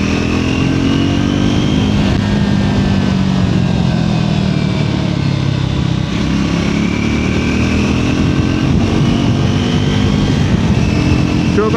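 A Triumph Scrambler 400 XC motorcycle rides over gravel, its engine a loud, continuous drone with rising and falling pitch as the rider shifts, heard alone without talk.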